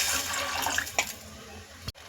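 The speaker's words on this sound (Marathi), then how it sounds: "मी ह्यामध्ये कमीत कमी 2 ग्लास पाणी ऍड करणार आहे।" Water from a glass poured into a simmering gram (chickpea) curry, a steady broadband rush of liquid lasting under two seconds, fairly close, with no talking, ending in a brief clink and a cut.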